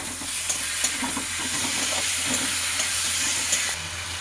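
Beaten curd going into a fried spice paste in a pan, giving a steady, fairly loud sizzle and hiss throughout with occasional light utensil taps, heard close up with no talking.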